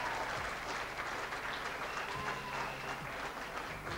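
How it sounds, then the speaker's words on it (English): Audience at a 1980 televised Xanadu dance contest cheers and applauds the dancers, with continuous clapping and crowd noise over faint music. "give them a cheer, Queensland"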